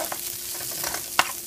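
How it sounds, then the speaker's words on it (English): Onions and yellow squash fry in a pan with a steady, close sizzle and occasional stirring scrapes. "I'm cooking up some onions and squash right now."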